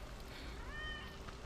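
A cat meows once in a video game set during a Final Fantasy 7 Remake session, a drawn-out tonal call rising and falling over steady game ambience with faint background voices.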